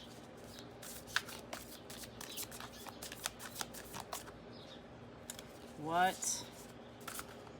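Soft riffling and tapping of cards being shuffled in short bursts, with a quick rising whistle-like sound partway through and a voice speaking briefly.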